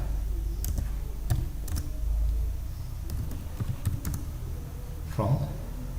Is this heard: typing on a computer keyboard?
yes